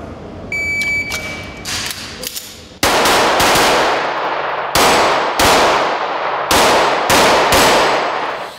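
A run of sharp, loud gunshots from a regional sport shooting tournament cracks out close by, each followed by a brief ringing decay, with a metallic clang and beep at the start.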